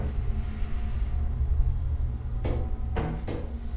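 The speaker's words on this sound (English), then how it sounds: "But something opened, like a door opened." A door opens inside the video game Lethal Company: a dull creak and thud with a short following bang, heard over a steady low ambient rumble, with no talking.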